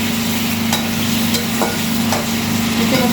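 French fries fry in a pan with a steady, even sizzle and a low hum running underneath. Occasional light clicks of stirring are heard, and no one speaks.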